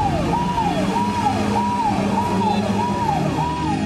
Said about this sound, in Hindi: किसी को एम्बुलेंस के सायरन की आवाज कहां सुनाई देने वाली थी